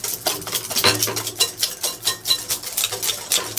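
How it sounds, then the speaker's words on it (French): A wire whisk beating eggs with sugar in a bowl for a clafoutis, brisk rapid clinking strokes repeating several times a second, near and fairly loud, no voices. "je commence à battre mes œufs avec un fouet, tout simplement"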